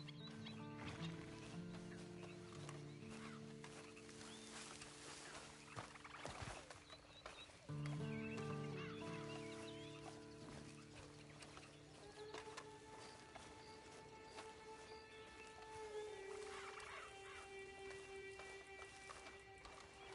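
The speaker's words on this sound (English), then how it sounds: "Then you better get on this horse." Horse hooves clip-clop steadily in Red Dead Online, a quiet, even gait running beneath sustained background music tones.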